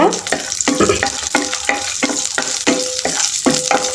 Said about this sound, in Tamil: இதில் முந்திரி கொஞ்சம் போட்டுக்கலாம் முந்திரி போட்டு நல்லா ஃப்ரை பண்ணிக்கோங்க